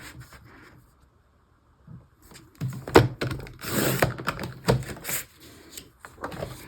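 Paper trimmer slicing a sheet of scrapbook paper to 6.5 by 12 inches at a craft table, heard as a few close, sharp thunks and sliding scrapes after a quiet start.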